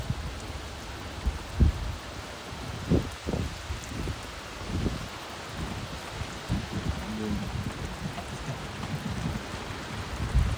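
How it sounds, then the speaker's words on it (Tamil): Light rain patters steadily in Qatar, with a few heavier drops and soft bumps standing out near the start, no talking. "கத்தார்ல மழை பெய்யுது."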